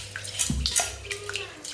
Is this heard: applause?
no